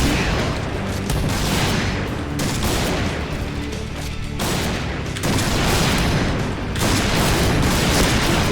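Barrett sniper rifle fire in a Point Blank shooter match, heavy booming shots with dense gunfire crackle running almost continuously and loud throughout, no talking.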